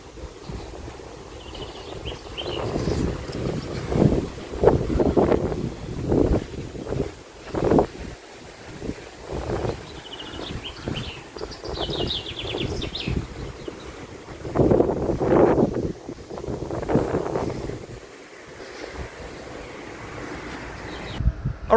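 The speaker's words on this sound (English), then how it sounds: "I'm here at the IJsselmeer and it's kind of windy." Gusty wind buffets the microphone beside the IJsselmeer lake, roaring and rumbling in uneven surges with faint lapping water beneath, loud and close throughout with no voices.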